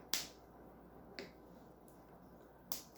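A few sharp, crisp snaps of a Cadbury vegan plant-based chocolate bar breaking, spaced apart in a quiet room, each a brief bright crack against faint background hiss.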